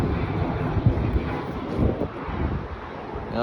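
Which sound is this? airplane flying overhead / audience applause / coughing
airplane flying overhead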